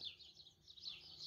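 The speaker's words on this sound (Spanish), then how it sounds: "Pueden escuchar el canto de los pájaros." Birds sing faintly among crop fields and trees in the countryside at Ojuelos, Salvatierra, Guanajuato, a soft continuous chirping and warbling over a low background hum.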